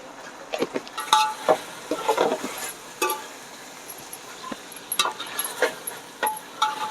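Chicken frying with chili powder in a pan, stirred with a utensil: scattered scraping and clinking strokes over a soft, steady sizzle, close and moderately loud, with no voices.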